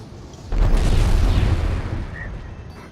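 A missile launches and explodes in the space combat game Strike Suit Zero, a sudden deep boom that swells at once and rumbles on for a couple of seconds before slowly fading, with no voices.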